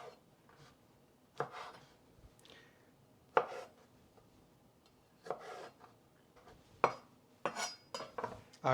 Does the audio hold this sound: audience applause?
no